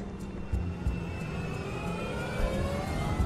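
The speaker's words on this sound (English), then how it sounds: "At 2:23, the MD-82 aircraft starts speeding down the runway." Engine roar of an MD-82 airliner, Spanair flight 5022, building as it accelerates down runway 36 left; a steady broadband rumble with rising whine tones, continuous and fairly loud throughout with no talk.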